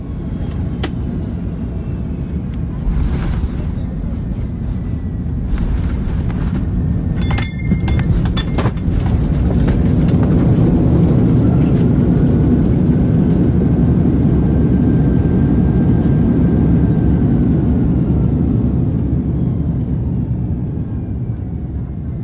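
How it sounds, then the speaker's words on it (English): An Airbus A330-300 landing in bad weather on the shortest runway at Amsterdam Airport and braking as hard as possible, a loud, continuous low engine roar with reverse-thrust rumble, rattling clinks near the start, steady and close. "A330 landing on the shortest runway at Amsterdam Airport due to the normal runways being closed because of the weather"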